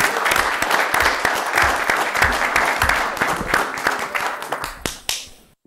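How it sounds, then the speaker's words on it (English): Audience at a mayor and city council meeting claps in a sustained round of applause that thins out and stops. "we applaud you absolutely for that"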